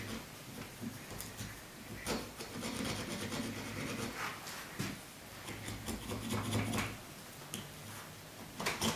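A chisel scrapes hardened epoxy off a marble lazy susan base in quiet, repeated rasping strokes with small ticks and clicks, faint and close, without talking.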